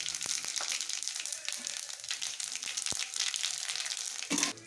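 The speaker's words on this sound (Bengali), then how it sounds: "জিরেটা দিয়ে দিচ্ছি" Cumin seeds dropped into a hot pan for a spicy fish curry, crackling and sizzling up close with scattered pops and stirring scrapes, a louder burst of sizzle at the end.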